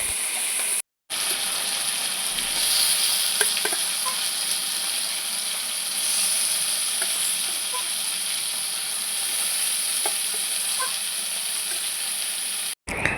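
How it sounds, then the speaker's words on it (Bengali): Prawns coated in salt and turmeric fry one by one in a pan, giving a steady, close hiss and sizzle with small crackles and pops. No voices are heard. "চিংড়ি মাছগুলো এখন এক এক করে ভেজে নিচ্ছি নুন হলুদ মাখিয়ে"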